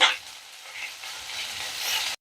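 Pointed gourd and potatoes fry in a pan, a steady close sizzle that swells at the start and again near the end before stopping abruptly.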